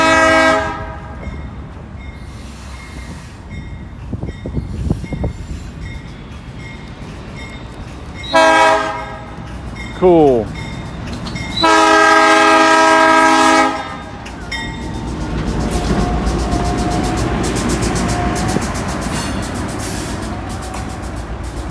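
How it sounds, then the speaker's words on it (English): Freight train locomotive passing during railroad switching, sounding its horn in several loud sustained blasts and short bursts over a rumbling engine and rolling cars, with rising wheel and track noise toward the end; one brief spoken word. "And here comes the green engine."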